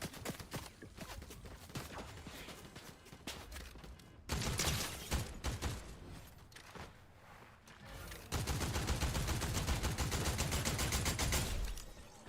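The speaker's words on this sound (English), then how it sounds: "there's somebody shooting at me" Dense bursts of Fortnite gunfire, loud and close, with rapid automatic volleys that break off and resume, building to a long sustained barrage near the end.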